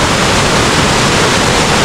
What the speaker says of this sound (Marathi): आणि हा तो धबधबा